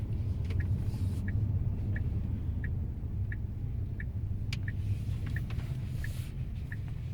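Tesla P90D electric car driving on a road, a steady low rumble of tyres and cabin noise with faint regular ticking like a turn signal, no engine roar.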